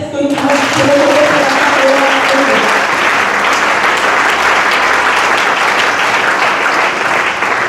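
A church congregation applauds and cheers for Jesus during a sermon, a loud, dense wash of clapping that holds steady the whole time, with a few voices rising briefly near the start.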